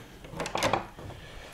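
A hotel room door in an old-style hotel in Suzdal swings open or shut, giving one short, close clunk with a bit of rattle in an otherwise quiet room.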